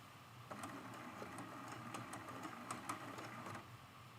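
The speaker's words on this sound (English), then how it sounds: "lower the needle right back down. I'm going to take a couple little locking stitches so we can cut this thread" A sewing machine makes a couple of locking stitches on a mug rug, a quiet, steady mechanical whirr with faint rhythmic ticks, heard close and alone.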